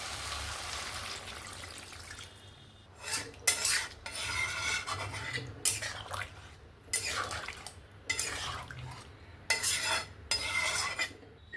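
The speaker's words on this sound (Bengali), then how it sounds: "এবার আমি পরিমাণ মতন জল দিয়ে দেবো" Water poured into a pan of raw jackfruit, potato and prawn curry, followed by spoon stirring and scraping against the pot, quiet and close with rhythmic clinks, no talking.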